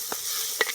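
Tomatoes added to fried onions sizzle in a village clay cooking pot, a steady close hiss broken by two soft stirring scrapes.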